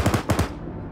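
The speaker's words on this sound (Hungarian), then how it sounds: "Lövök a kibaszott ágyúval." A tank cannon fires in Arma 3 as a loud, close burst of rapid blasts, then a rumbling decay that fades over about a second, with no voices.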